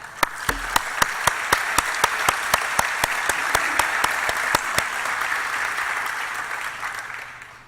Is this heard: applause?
yes